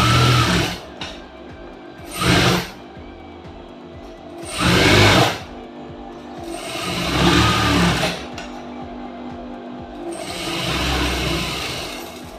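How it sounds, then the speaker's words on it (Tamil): A sewing machine stitches around the edge of a lined blouse in a series of short, separate runs, each a rising whir of needle clatter with quiet pauses between, close by and alone. "இப்போ இதை சுற்றிலும் ஒரு தையல் வந்து நம்ம போட்டு எடுத்துக்கலாம்"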